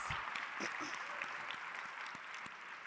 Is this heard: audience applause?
yes